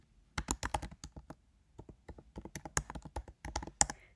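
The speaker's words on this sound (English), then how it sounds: "All you have to do is actually type on the actual document." Quick, light keystrokes on a computer keyboard come in close, irregular clusters with brief pauses, editing a Google Docs document in a quiet room, with no talking.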